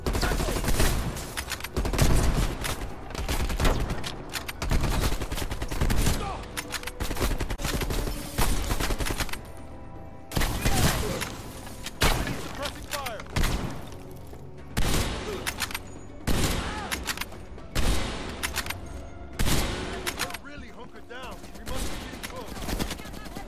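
Covering gunfire in the game Call of Duty Black Ops Cold War, with dense, loud volleys and bursts of shots that continue almost without a break, alongside voices and battle noise.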